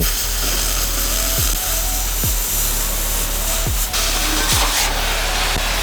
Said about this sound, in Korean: 제일 먼저 기둥이 될 H빔 길이에 맞춰 재단 작업을 진행해주고